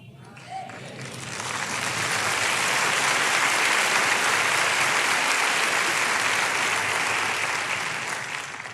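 A church congregation at a Spanish-language sermon breaks into sustained applause, a broad wash of clapping that rises, holds loudly through the middle and eases slightly toward the end.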